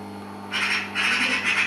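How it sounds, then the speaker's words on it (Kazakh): A magpie call is played back in a children's bird-guessing game, heard as two harsh, raspy chattering bursts in quick succession over a low background hum, close and fairly loud. "Сауысқан дауысы."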